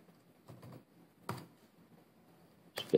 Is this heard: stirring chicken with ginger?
no